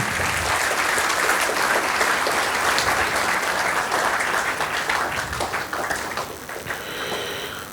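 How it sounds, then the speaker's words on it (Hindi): Audience at a school session applauding parents: loud, dense clapping from a large indoor crowd, sustained for several seconds before gradually thinning out. "सो एक बार आप सब लोगों के लिए बहुत ज़ोरदार तालियां बनती है।"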